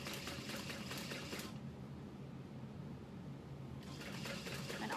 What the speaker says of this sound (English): this is an example of sewing twice around the bottom